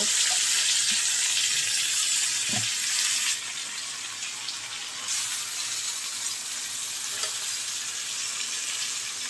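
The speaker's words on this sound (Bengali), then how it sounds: "পেঁয়াজগুলি বাদামি কালার হয়ে এসেছে, এখন আমি মাংসগুলো দিয়ে দিব।" Beef pieces frying in oil with browned onions for beef biryani, a steady close sizzle with faint stirring scrapes and a brief drop in hiss partway through, no voices.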